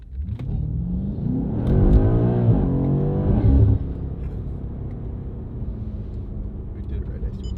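BMW M8 Competition with its V8 on the stock exhaust, revving hard at full throttle: a rising, fairly subdued engine note builds for a few seconds and then drops away to a low idle rumble.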